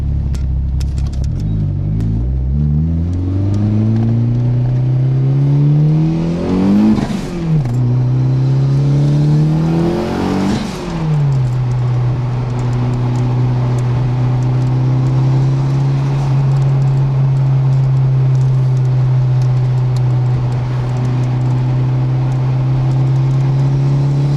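A 1992 DSM car engine idles with a loud, steady rumble, then revs up sharply twice and drops back, with a blow-off valve hiss after each rev before settling into a rough idle again.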